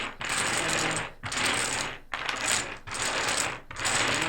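Five bursts of clattering dominoes being shuffled across a hard table, each lasting about a second with brief pauses between, close and loud.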